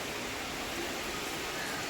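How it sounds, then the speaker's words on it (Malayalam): Steady broadband rushing of wind and rain, a continuous even roar with no distinct drops or voices, filling the whole stretch. "ഭയങ്കര കാറ്റും മഴയും ഭയങ്കരമായിട്ട് കാറ്റടിക്കുന്നു"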